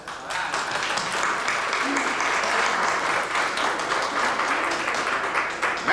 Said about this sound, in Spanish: le regalemos el mejor de los aplausos a Vanessa